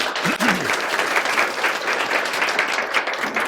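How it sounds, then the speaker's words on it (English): An audience gives a big round of applause after an interview event, a full, sustained roar of clapping from a large crowd, with a brief vocal whoop near the start. "let's give them a big round of applause"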